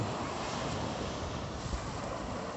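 Broadband rushing of sea waves at high tide at Dalaroy Beach Resort in Ternate, Cavite, mixed with wind buffeting the microphone, steady and fairly loud with no voices.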